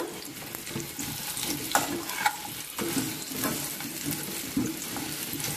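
Sweet potato pieces fry in ghee while being stirred, a steady close sizzle broken by occasional scraping and clinks of the spoon against the pan.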